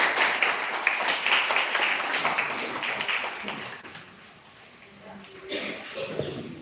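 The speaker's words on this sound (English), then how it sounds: "Clap, please." Audience applause at a medical ultrasound workshop, steady dense clapping from a room of people that fades partway through and then picks up again briefly, with some voices mixed in.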